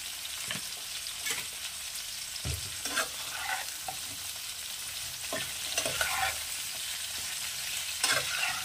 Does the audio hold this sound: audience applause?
no